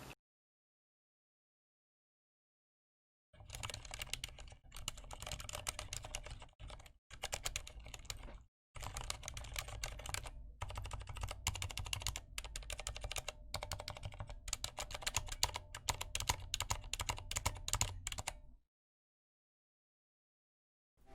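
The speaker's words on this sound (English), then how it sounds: "we're going to do a sound test of the keyboard right now." Rapid clattering keystrokes on a computer keyboard run for about fifteen seconds, close and crisp, with short pauses, framed by silence before and after.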